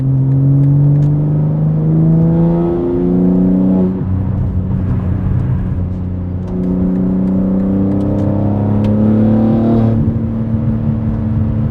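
BMW G80 M3 with S58 engine and ARM single mid-pipe, loud sustained engine note rising through gears while accelerating to highway speed, with brief dips at shifts near the start and end.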